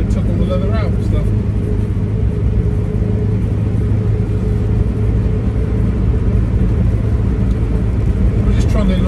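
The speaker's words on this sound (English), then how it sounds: "We're just trundling along now at a steady 40 mile an hour, and it's just quite happily just bumbling down the road." A 1956 Morris Minor split-screen two-door cruising steadily at about 40 mph, a continuous low engine drone and road rumble heard close from inside the car, under someone talking.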